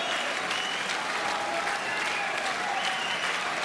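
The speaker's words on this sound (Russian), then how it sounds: "Аплодисменты слышны на протяжении всего 12 раунда" Sustained applause from a boxing arena crowd during the 12th round, a dense, steady wash of clapping with no break or let-up.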